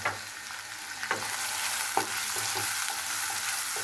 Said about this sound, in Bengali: পেঁয়াজটা আমি এখানে একটু ভেজে নিচ্ছি।